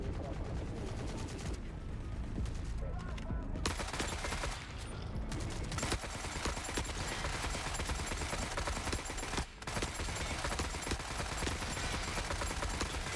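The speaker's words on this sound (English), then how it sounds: "I don't know what I'm shooting at, but I'm just gonna fire" Gunfire from the video game The Forever Winter: dense, sustained bursts of automatic weapons fire with brief lulls, loud and continuous throughout.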